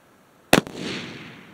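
A single sharp, loud crack from a 25-06 rifle firing 115-grain bullets at a target one mile away, followed by a short fading rumble of echo across open ground.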